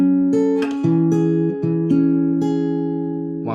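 Fingerstyle acoustic guitar picking the opening two chords of a song, close and clean, with individual plucked notes ringing into each other in a slow, even pattern before fading out.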